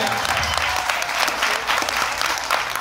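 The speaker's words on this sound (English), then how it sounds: "Big round of applause for the three session kids, Willow, Ajax, and Nathan." Sustained audience applause at a Celtic orchestra concert, loud and dense broadband clapping from a large crowd filling the whole stretch without pause.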